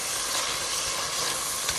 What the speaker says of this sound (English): I'm just going to render some more fat off of this